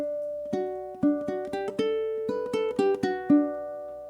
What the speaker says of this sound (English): I'm just gonna play the melody that the bass plays.